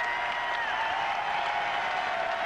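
An arena crowd at a 1993 Vanderbilt at Florida college basketball game in Gainesville roars in a steady, sustained wash of cheering and applause, with a whistle-like tone sliding through and faint voices underneath.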